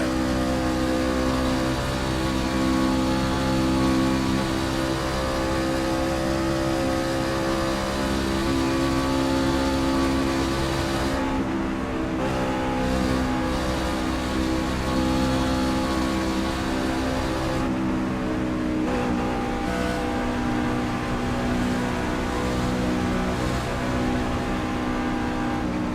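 Race cars lapping a track, heard from inside the 62 car: a loud, continuous engine drone holds steady throughout, dipping briefly twice as the driver lifts off the throttle before pulling hard again.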